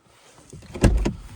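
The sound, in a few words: Volvo S90 car door opening and closing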